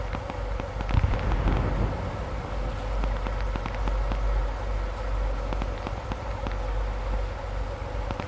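Gunfire in a World War II online shooter battle around a town: a dense, distant crackle of rapid shots and bursts over a steady low rumble, with no talk.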